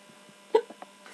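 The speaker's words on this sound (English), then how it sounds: "Are hiccups really a sign of being drunk?" A single short hiccup from a man drinking beer with friends, a quiet isolated burst followed by a couple of faint softer sounds in a calm room.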